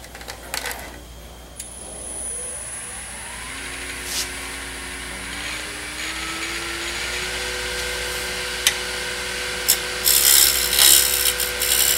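Sanding a turned wooden Roman flask spinning on a lathe, a continuous close rubbing hiss over the steady motor hum as the lathe spins up, with a few sharp knocks and a brighter scratchy burst at the end.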